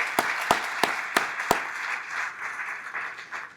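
A gala audience claps in a large hall: a few sharp, distinct claps ring out near the start, then blend into a softer, diffuse patter of applause that gradually thins.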